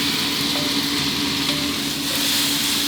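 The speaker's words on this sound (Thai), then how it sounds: "พอกระเทียมออกกลิ่นหอมดีแล้วนะครับก็ตามด้วย หมูที่เราหมักไว้ได้เลยครับ" Marinated pork stir-frying with fragrant garlic in a pan over medium-high heat, giving a loud, dense, unbroken sizzle that holds steady throughout with no voices.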